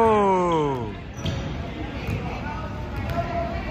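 Basketball dribbled on an indoor court at a high school JV boys' session, a few bounces thudding under loud gym chatter and shouting voices, with a whistle-like tone at the start.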